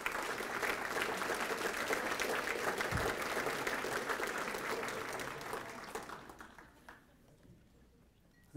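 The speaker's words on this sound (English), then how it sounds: "Thank you for that applause." Steady applause from a crowd at a high school hall of fame ceremony fills the room, dense and continuous, then gradually thins and fades out toward the end.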